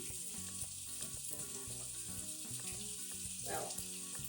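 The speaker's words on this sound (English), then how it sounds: "We're gonna add 1 pickle in the middle, like that, until it keeps sizzling." Cheddar cheese and a pickle sizzle in a hot pan, a steady crackling fry with small pops, close and fairly quiet, with no one speaking.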